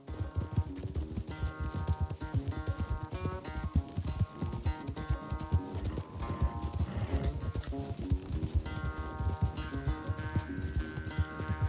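Horse hooves gallop in a race in the video game Red Dead Redemption 2, a steady rapid clip-clop running throughout under a continuous music score.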